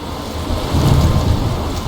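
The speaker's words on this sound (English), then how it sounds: "I'm trapped in a storm?" A storm roars in the video game Life is Strange, with loud, dense rushing rain and wind and a deep rumble swelling in the middle.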